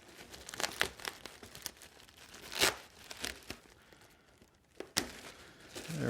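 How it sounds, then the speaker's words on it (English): Plastic wrap taped around a coffee roaster crinkles and tears in short bursts, with a few sharper rips standing out, close by and with no talking. "let's remove the plastic. This is taped really well."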